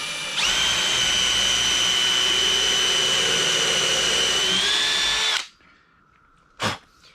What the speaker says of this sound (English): and I can countersink it, which is usually where the most likelihood of it splitting is